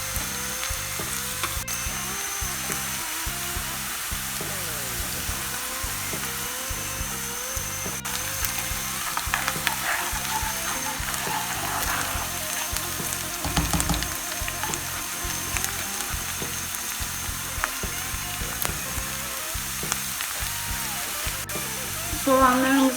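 Onions sautéing in olive oil in a pan for a Turkish olive-oil zucchini dish, a steady close sizzle with occasional stirring scrapes, accompanied throughout by background music.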